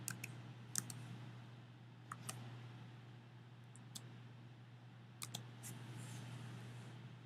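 Someone types an ID number on a computer keyboard, faint sparse key clicks in small bursts over a quiet room hum.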